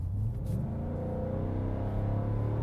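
A 2023 Ford F-250 Tremor with the 7.3L V8 downshifting straight to fourth gear, a steady low engine rumble and drone heard from inside the cab, no talking.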